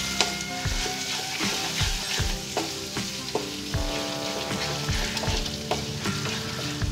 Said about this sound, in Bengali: আবারও ভালো করে মিশিয়ে দিচ্ছি।